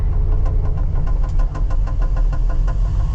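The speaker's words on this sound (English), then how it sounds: "I'm not convinced that I don't have a miss in the engine." Loud, steady truck engine running under load, old Road Ranger transmission, during a bean harvest, with a low drone and faint irregular knocking pulses that hint at a possible misfire; no talking.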